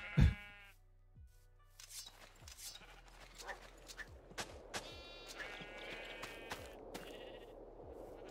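Sheep in the video game Minecraft bleating repeatedly across the stretch, several wavering bleats overlapping one another above a low game background hum.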